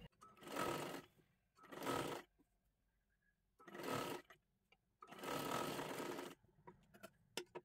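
Domestic sewing machine stitching a sleeve onto a dress, running in four separate bursts of steady whirring stitching with quiet pauses between, close by, followed by a few small clicks at the end.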